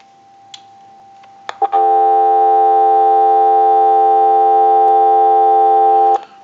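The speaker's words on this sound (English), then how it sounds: "Now what we want to do is go ahead and give you some dial tone." Steady dial tone from a Western Electric 317 wood wall crank telephone converted for dial use, a continuous loud hum lasting about four and a half seconds after a few faint clicks, then cutting off abruptly.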